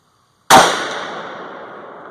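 A single loud 450 Bushmaster rifle shot loaded with Hodgdon Lil'Gun powder and Hornady 200-grain FTX bullets: a sharp crack after a moment of quiet, then a ringing decay.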